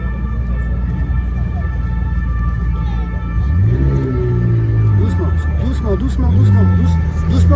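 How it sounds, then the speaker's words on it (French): An orange McLaren followed by a Lamborghini drives past on Place Vauban, their engines rumbling loudly and rising into a roaring rev as they pass close by, with voices around. "McLaren orange, suivi d'une Lamborghini"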